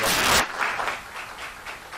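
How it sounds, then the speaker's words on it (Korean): Press-conference audience at a Korean president-elect's Q&A with reporters bursts into a short, loud clap that fades after half a second into lighter scattered clapping and murmur. "박수 한번 주십시오."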